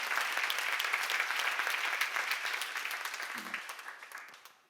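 An audience at a church seminar on Romans gives a round of dense, continuous applause that holds steady and then gradually fades out near the end, with no one speaking over it.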